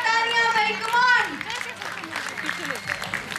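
Applause breaks out for the smart baby winner at a kids' event, a short wash of clapping that follows a voice and continues with children's chatter and talk mixed in.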